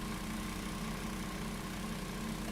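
An old second-hand farm tractor used for haymaking and contracting work runs with a continuous, even, mid-low engine drone, close by and unbroken.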